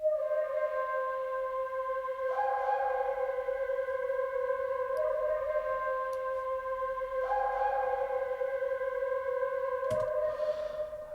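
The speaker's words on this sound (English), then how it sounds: "Add an echo to it and a lot of reverb on there and compress it a little" A sped-up sample played through an Alchemy sampler synth with echo, heavy reverb and light compression: sustained tonal chords shifting every few seconds, with echoing repeats and a long reverb tail, loud and steady with no talk.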